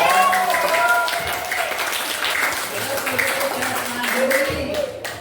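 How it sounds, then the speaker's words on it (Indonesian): A classroom of students claps together in a burst of applause, dense and fairly loud, holding across the whole moment with voices mixed in. "Tepuk tangan."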